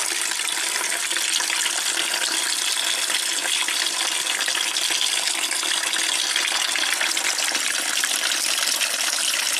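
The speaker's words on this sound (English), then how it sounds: "we're draining all of the coolant out, taking off this auxiliary radiator" Coolant pours out of the auxiliary radiator of a 1991 Audi 200 Quattro 20V Turbo, a steady loud rushing gush of liquid that runs continuously without pause, heard alone.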